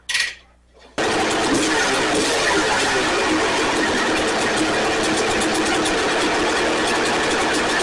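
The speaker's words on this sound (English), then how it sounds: "And with that, we have a running bike." A 1991 Honda CR250 two-stroke dirt bike engine catches after a brief opening burst, then runs at a loud, steady, buzzing idle close by with no pauses.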